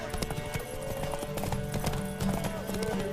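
Horse hooves clip-clopping in The Witcher 3: Wild Hunt, a rhythmic series of close hoof strikes with a snort or whinny mixed into a busy game soundscape, under no talk.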